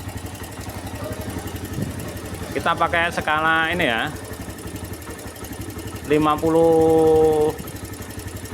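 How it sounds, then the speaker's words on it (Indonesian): A Honda Thunder 125 motorcycle engine idles with a steady, low, rapid pulse that runs throughout, while someone talks over it in two bursts. "Ini posisi udah nyala ya untuk mesin. Mungkin teman-teman kedengaran."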